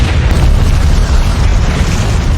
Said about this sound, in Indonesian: membuat tempat itu meledak bersama para perampok